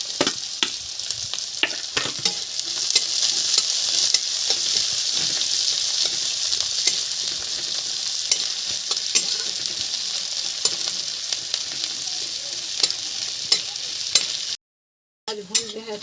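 Onions fry in a pan for a Bihari adauri curry, a continuous close sizzle broken by frequent scraping strokes of a spatula, with a brief dropout near the end.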